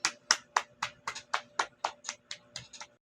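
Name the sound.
class applause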